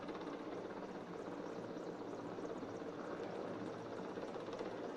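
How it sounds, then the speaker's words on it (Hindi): An MI-17 helicopter hovers over a cable-car rescue operation in Deoghar, Jharkhand, its rotor and turbine roar a steady, loud, continuous wash with no voices over it. "MI-17 हेलीकॉप्टर भी देखिए अब पहुंच गया।"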